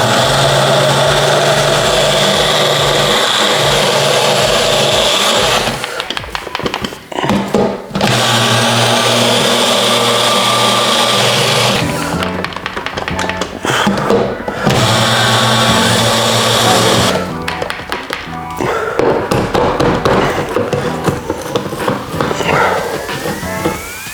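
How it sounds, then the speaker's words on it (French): Kitchen blender mixing a chocolate protein breakfast shake, running loud and close in long whirring stretches broken by brief pauses and pitch changes as the motor loads and frees up. "Regardez quand on va mélanger l'injection de chocolat qui va arriver."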